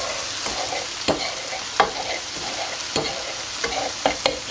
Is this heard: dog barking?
no